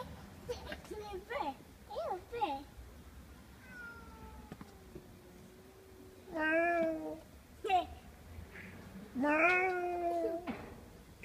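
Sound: kitten meowing

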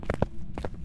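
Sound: ghost footsteps in the video game Phasmophobia

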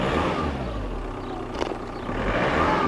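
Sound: car engine revving when accelerated

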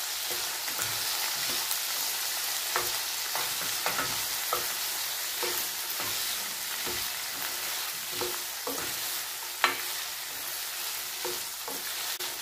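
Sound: stirring okra frying in the pan

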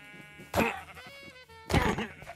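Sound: sheep bleating in a video game

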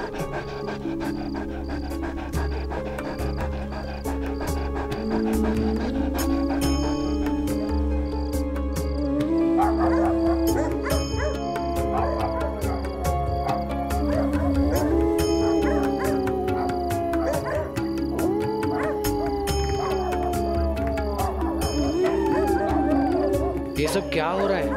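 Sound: dogs howling

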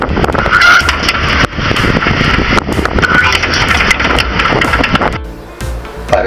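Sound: repaired air extractor fan motor running noisily

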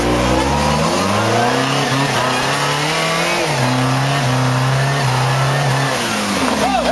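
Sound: Subaru 4WD car engine revving while climbing

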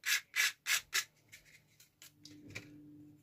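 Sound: hand sanding a resin-inlaid scroll saw piece with sandpaper

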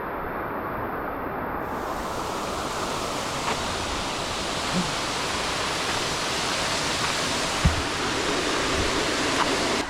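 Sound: waterfall by the Moei River

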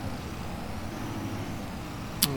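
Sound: farm vehicle driving in the video game Farming Simulator 25

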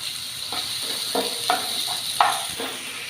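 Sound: onion, tomato and curry leaves frying in a pan

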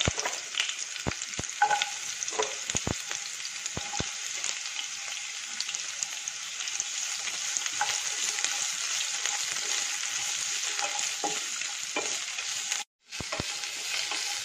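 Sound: onion and green chili frying and being stirred

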